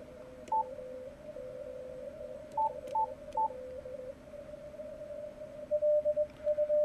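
Morse code CW signal on an amateur radio receiver near 14044 kHz, a steady tone with short keyed beeps from another signal chirping over it, set against faint background hiss.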